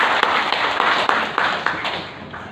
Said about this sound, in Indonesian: Terima kasih, tepuk tangan untuk beliau.